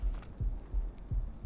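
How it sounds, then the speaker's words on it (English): A heartbeat in the video game ARK Ascended: low, muffled double thumps repeating at a steady pace, close and even, with no speech. "Oh, you can hear the heartbeat."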